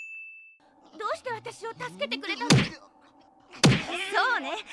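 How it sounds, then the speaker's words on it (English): Cartoon punch sound effect from the One Piece anime, heard as two sharp, loud impact hits with ringing tones, set among whooshing and sliding cartoon effects and a brief tone at the start. "when he punched Luffy so slowly, and that sound effect"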